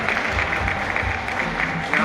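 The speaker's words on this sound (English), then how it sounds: "Let's give them a round of applause" Audience applause at the Bulawayo Arts Festival, a brief, dense clapping of many hands heard from a distance, steady and moderately loud over low background rumble.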